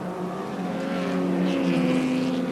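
Saloon race cars, including a Honda CRX and a Mazda, race at Kirkistown in 1988, engines droning and rising in pitch as they accelerate past, loud and steady with no talk.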